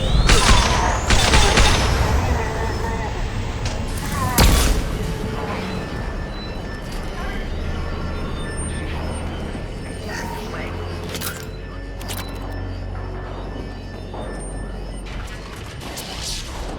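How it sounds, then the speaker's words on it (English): Flashbang explosions in the Mass Effect video game during a firefight: a couple of sharp, loud bursts near the start and another around the middle, over a dense layer of combat noise and mechanical clatter, with voices talking throughout. "Watch out, flashbangs!"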